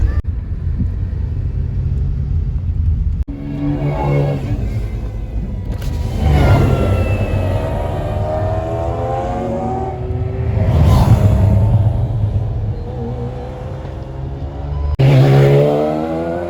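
Several McLaren F1 supercars driving past on an open road, loud engine roars that swell and fade as cars pass one after another, with sharp revving rises between the passes.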